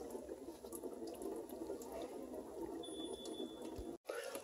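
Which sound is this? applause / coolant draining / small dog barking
coolant draining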